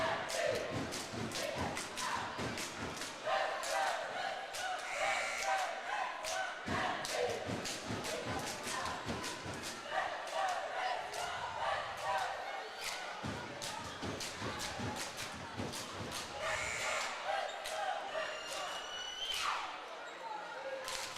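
Crowd in a gym at a high school girls' basketball playoff game, a steady roar of cheering under sharp, repeated ball bounces and sneaker squeaks, with voices talking throughout.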